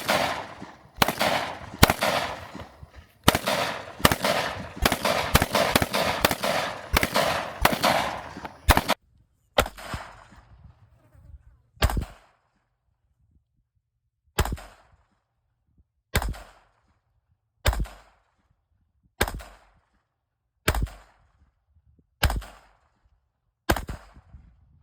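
Gunfire from a Scorpion, a 300 and several handguns, opening with a rapid burst of sharp, loud shots, then settling into single reports spaced about two seconds apart, each with a short echoing tail.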